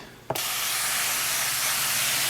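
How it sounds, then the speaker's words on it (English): A spray bottle misting an isopod enclosure, one short click and then a sustained close hiss of fine spray that carries on steadily to the end. "So we're going to, you probably guessed, spray them down pretty good."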